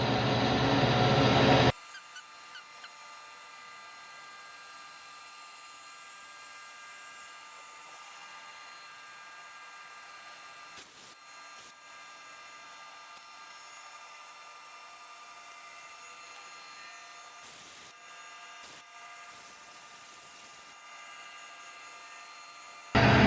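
A milling machine makes a long pass across a metal axle adapter for a Spitfire, giving a faint, steady tonal whine and hum with occasional soft scraping bursts, framed by brief louder noise at the start and end.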